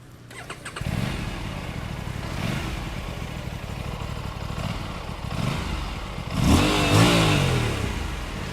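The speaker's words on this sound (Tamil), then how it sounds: "எக்ஸாஸ்ட் நோட் கேளுங்க" An Aprilia RS457 motorcycle engine fires up and idles with a throaty exhaust note, then revs sharply near the end, loud and close.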